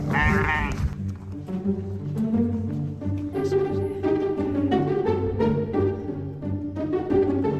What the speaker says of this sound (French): regarde les petites chèvres là-bas